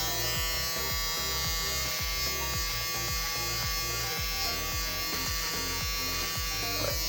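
A Braun Series 9 9340s electric shaver runs continuously close to the microphone, giving a loud, steady buzz with a fast regular pulsing throb.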